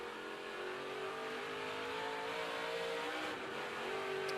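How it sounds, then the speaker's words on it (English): A dirt race truck accelerates hard on a qualifying run at Eldora Speedway, its engine a steady, loud, sustained roar that climbs gradually in pitch, close by and without talking over it. "Let's listen as he gets on it for his qualifying run."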